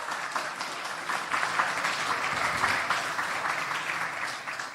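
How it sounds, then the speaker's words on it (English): Demo Day audience applauding fifty presenting teams, a broad, continuous roar of many hands clapping that swells slightly midway and holds steady, with no voices over it. "give it up for them, a round of applause."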